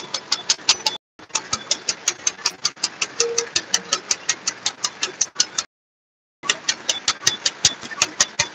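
A reel feed paper bag machine with a servo motor and perforation cutting runs at speed, producing a dense, regular train of sharp mechanical clacks, loud and close, broken by two brief silent gaps.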